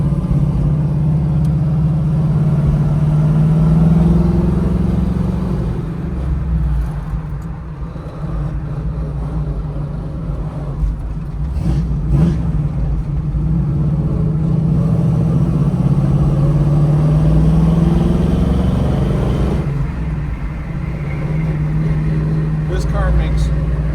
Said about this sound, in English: Just a little bit of gear noise out of the gearbox, perfect exhaust note, a little bit of breeze blowing through the cabin.